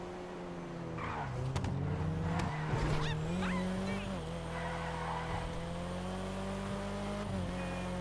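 Paul Walker's Nissan Skyline R34 GT-R driving in GTA 5: a steady engine drone with rising and falling revs and a brief tire squeal, continuous and fairly close.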